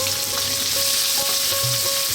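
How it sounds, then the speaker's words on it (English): Onion drops into oil on high heat for a salmon fish curry and fries with a dense, continuous close sizzle and faint clinks of stirring, with no voices. "Let's drop in our onion."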